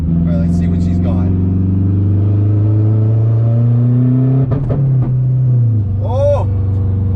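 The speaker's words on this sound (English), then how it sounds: "We'll just like give her like a quarter throttle, see if we tip into some boost here" Turbocharged 8th-generation Honda Civic accelerating under quarter throttle, a steady loud engine drone rising slowly in pitch, then a brief choppy stutter and a drop as power cuts, with a short whistling chirp near the end.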